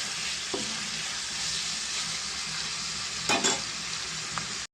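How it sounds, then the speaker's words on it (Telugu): Curry leaves frying in hot oil for a home-style chicken biryani and curry: a steady, close sizzle throughout, with a couple of brief stirring clatters and no voices. "కరివేపాకు ముందే వేసేస్తున్నానండి ఎందుకంటే దీని ఫ్లేవరు మొత్తం మసాలా పడుతుందని ముందే ఫ్రై చేస్తున్నానండి"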